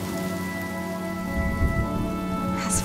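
Rain in the video game Honkai Star Rail falls steadily on surfaces as a soft continuous patter, with sustained musical tones underneath and a brief brighter swell near the end.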